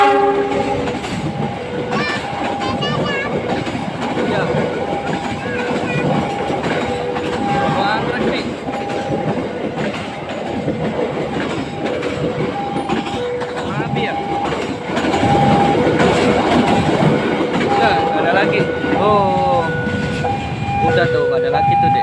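KA Bromo Anggrek passenger train speeding past a level crossing at night, a loud continuous rumble with rhythmic wheel clatter and repeated horn blasts, with some talk in the background.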